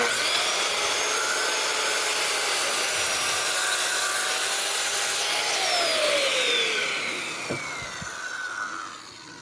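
A 7.5-inch circular saw cuts through a 2x4, a loud, steady high whine with broadband cutting noise for most of the run, the motor pitch dropping as the blade finishes and winds down near the end.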